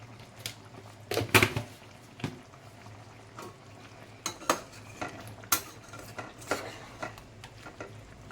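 Chicken cooking with no oil in a pan on a low flame is stirred with a utensil, giving repeated scraping clinks and taps against the metal over a soft, steady sizzle, with no talking.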